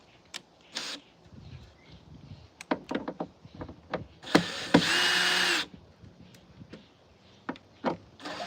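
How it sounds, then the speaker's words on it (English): A power drill backing screws out of a wooden board on a chicken coop, with scattered knocks and handling clatter around one sustained whirring burst, all close and without talking. "we'll back these screws off just a hair, so they're not poking through anymore"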